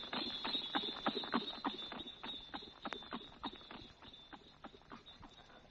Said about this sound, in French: puis fouetta le cheval qui nous conduisit à bride abattue au château de Holderness